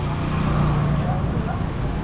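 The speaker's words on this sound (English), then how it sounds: "A lot of traffic, a lot of noise" Street traffic on a busy corner in Floridablanca, Colombia, a dense steady low roar of passing cars and engines, loud and close, with faint voices mixed into the hum.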